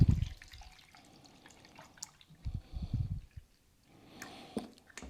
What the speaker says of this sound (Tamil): சரின்னு பால் ஊற்றணும்.